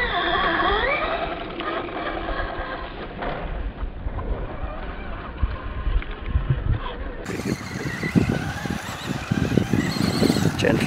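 A Traxxas Rustler RC car drives on a tanbark track, its electric motor whining up and down in pitch amid rough rustling, scattered crunches and wind buffeting.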